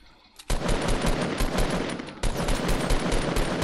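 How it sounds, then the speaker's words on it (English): Rapid automatic gunfire in a video game erupts after a brief quiet start, bursts rattling on continuously with a short dip midway before resuming just as loud and close. "Oh yeah, he's getting shot"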